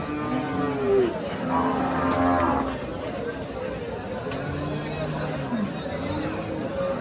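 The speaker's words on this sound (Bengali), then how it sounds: "খুব সুন্দর সুন্দর শাহিওয়াল গরু।" Sahiwal cattle moo several times at a busy outdoor cattle market, with a few drawn-out calls rising over a steady murmur of crowd chatter.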